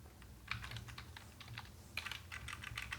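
Keys clatter on a computer keyboard as a short caption is entered while building an HTML image's alt text, rapid uneven taps with two brisk bursts, close and fairly quiet, with no voice.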